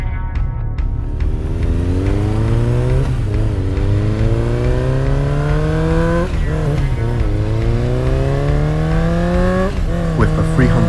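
A 300cc motorcycle engine revs loudly and close, climbing through the gears in repeated rising sweeps with brief dips between shifts, running continuously with no talk.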